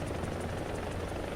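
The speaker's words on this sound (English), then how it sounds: "is that a helicopter already?" A helicopter in War Thunder ground-strike combat approaches with a loud, continuous rotor thrum and engine drone, its blade beats pulsing rhythmically throughout.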